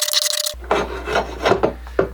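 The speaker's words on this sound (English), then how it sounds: "To take off some material on this handle, I'm gonna try and use a draw knife." A draw knife shaves wood off an old axe handle in a few close, rough scraping strokes, each a short rasping rub following a brief clatter.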